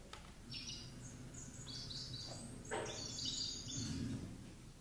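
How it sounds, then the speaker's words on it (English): A 9-month-old swamp sparrow sings a weak, twittery juvenile song of scattered high chirps and short trills over several seconds, faint against a low background murmur. "this is what about a 9-month-old swamp sparrow sounds like"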